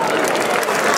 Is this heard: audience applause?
yes